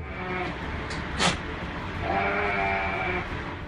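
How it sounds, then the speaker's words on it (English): A Damascus goat, an exotic breed, bleats in a few short calls over steady background noise, with no talk. "it is a real exotic type of goat known as the Damascus goat"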